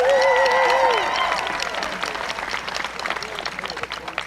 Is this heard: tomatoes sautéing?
no